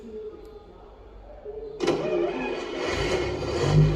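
A 1916 Locomobile car engine in good condition starts up partway through and keeps running, a steady mid-pitched mechanical chug close by with no one talking.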